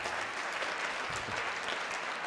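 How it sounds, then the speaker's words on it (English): Audience at a senior breakout session applauding a group once more, a sustained dense round of many hands clapping at steady moderate volume from start to end, with no speech over it. "Now let's give these guys one more round of applause."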